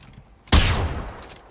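A single loud gunshot in a co-op shooter game, a sharp blast at once followed by a long rumbling decay, with a faint quiet stretch before it and no voices.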